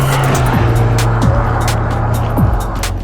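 A Honda S2000 R fitted with a K20C1 Type R engine is driven hard, its loud, close engine note rising in quick rev sweeps punctuated by sharp gear shifts.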